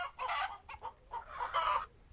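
Chickens cluck in a short series of quick, uneven bursts, close and clear with no talking.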